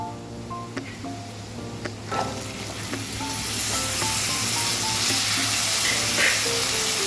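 Vegetables tumble into a hot pan for Hyderabadi pulao, setting off a sizzle that swells and stays loud and steady, with faint clinks early on under low background music.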